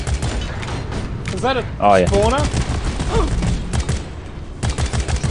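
Rapid bursts of gunfire from the Deep Rock Galactic video game as players shoot out bulbs, crackling in dense volleys throughout with several players talking and exclaiming over it.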